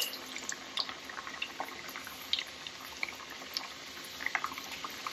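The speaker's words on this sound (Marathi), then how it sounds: "एकदा तेल गरम झाल्यानंतर लो टू मीडियम गॅसवरच हे तळायला घ्यायचं आहे" Mathri snacks deep-frying in hot oil over low to medium heat, a faint, steady sizzle broken by scattered small pops and crackles, with no talking.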